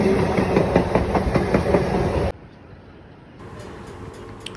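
A loud train rumbles and clatters past for about two seconds at the new Kilambakkam railway station, heading for Thirumalpur, then cuts to quieter ambient station noise.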